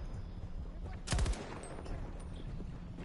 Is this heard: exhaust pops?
no